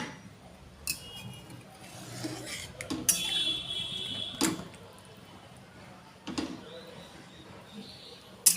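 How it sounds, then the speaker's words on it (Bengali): A utensil scrapes and clinks against a pot while egg white is stirred into chicken soup, giving scattered metallic taps and a longer ringing scrape over a quiet kitchen background. "এই সাদা অংশটা আস্তে আস্তে দেবো আর নাড়তে থাকবো।"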